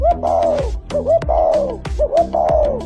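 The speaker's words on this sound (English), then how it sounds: "This is a spotted dove." Spotted dove cooing, soft rounded coo phrases repeated in a steady rhythm three times, close and fairly loud with no other sounds.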